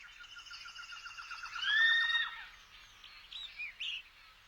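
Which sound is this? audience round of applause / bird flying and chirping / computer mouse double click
bird flying and chirping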